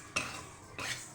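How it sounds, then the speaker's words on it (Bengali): Moong dal being dry-fried in a kadai, stirred with a utensil in two short scraping bursts with a faint dry rustle between them, close and fairly quiet. "গ্যাস জ্বালিয়ে মুগ ডালটা ভেজে নেব।"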